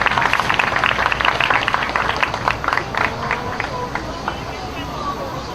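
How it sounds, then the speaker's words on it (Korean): A large crowd of young doctors and medical students at a rally in Yeouido applauds in a dense patter that gradually thins and fades, mixed with crowd noise and a voice speaking over it. "여러분 박수 부탁드립니다"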